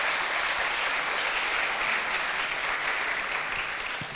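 An audience at a demo day claps in a thick, continuous roar of applause from a sizable crowd that stays loud and even, tapering a little at the very end.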